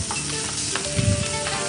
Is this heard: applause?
no